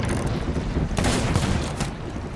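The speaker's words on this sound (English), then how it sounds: "I shot him once" Gunfire in the Sea of Thieves pirate game during a ship battle, a dense, loud burst of blasts over a constant roaring wash of game noise, with no clear break between shots.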